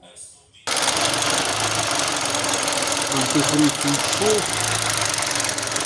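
After a moment of quiet, a Volkswagen Golf 5 car engine suddenly turns over and settles into a steady, rumbling idle, with someone speaking briefly over it.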